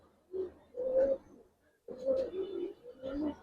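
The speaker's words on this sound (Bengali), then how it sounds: "এটা মাদি কবুতর ভাই, এটা একটা মাদি।" Pigeons coo softly at close range in a Bangladeshi loft: two low, throaty bursts of cooing with a short pause between them, with no talk over them.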